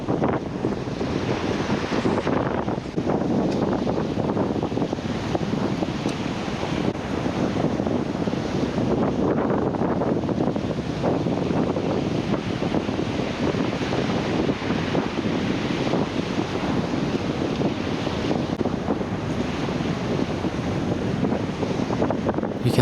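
Steady wind roars and buffets the microphone on a boat during lure fishing for giant trevally and tropical species off Aitutaki, a continuous broadband rush with faint water wash underneath and no talking.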